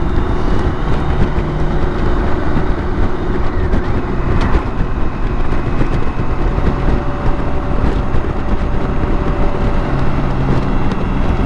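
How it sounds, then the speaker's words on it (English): Loud, constant roaring wind buffeting while riding a BMW K1600 GTL motorcycle, a dense rushing noise with no let-up that masks any engine sound. "There's a strange wind blowing today."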